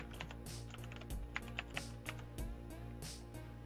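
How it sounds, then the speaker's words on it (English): Typing a name on a computer keyboard, with a series of quiet, close key clicks in an uneven rhythm over a steady low hum, and no talking. "type the name in"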